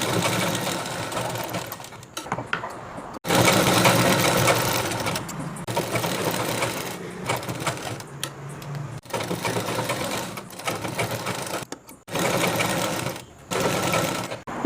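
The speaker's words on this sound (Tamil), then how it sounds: "இப்போ இதை நான் உங்களுக்கு தைச்சி காட்டுறேன்." Sewing machine stitching a seam on a men's kurta, running in several long, loud whirring stretches broken by short stops, close and with no talking.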